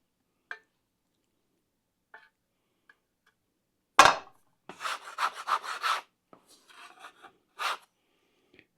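Sharp scraping strokes of a bench knife clearing flour and sticky dough off a work bench, a burst of rasping scrapes after scattered faint taps, close and fairly loud with no talk.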